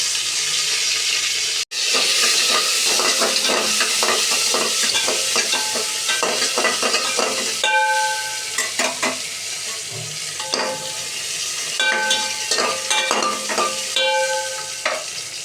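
Cashews and raisins fry in ghee with bay leaf and whole spices in a pot, a continuous close sizzle with repeated metallic stirring scrapes and clinks throughout.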